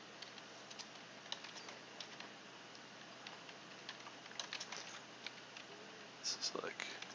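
Computer keyboard typing while writing C++ code, quick light key clicks in short irregular bursts, faint and close, with a soft murmured voice near the end.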